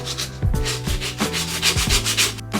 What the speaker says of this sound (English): Finish sanding everything down.